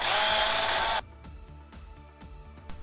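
Power screwdriver loosening pre-mounted screws on the tablet tray of a Magene MG80 spin bike: a loud whirring burst that stops abruptly, then quieter clicks and handling noises.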